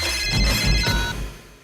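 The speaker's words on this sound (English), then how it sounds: "It's ringing." A phone ringtone trills steadily for under two seconds during a call, loud and up close, with no talking over it.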